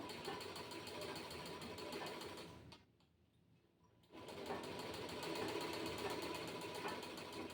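A pedal-operated Merit sewing machine runs in a fast, steady mechanical chatter, stops for about a second and a half, then starts again and keeps running close by.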